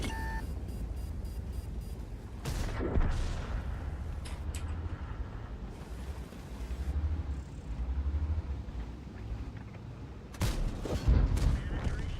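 A tank cannon fires in World of Tanks, a sharp blast near the middle followed by another heavy boom toward the end, set against constant engine rumble and game effects with a voice talking at times.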